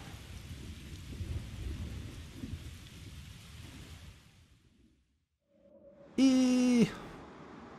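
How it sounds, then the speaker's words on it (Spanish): Thunderstorm with heavy rain in the Tales of Berseria video game: a steady wash of rainfall and rumbling thunder fades to near silence, then a brief loud tonal whoosh swells and cuts off. "Lo de navegar en la tormenta."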